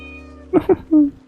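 A cat in the video game Heartopia lets out a short series of close meows: two quick chirps followed by a longer drawn-out mew, clear over a faint steady background hum.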